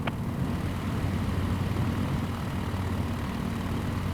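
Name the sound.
Savage Cub plane engine taxiing, Microsoft Flight Simulator video game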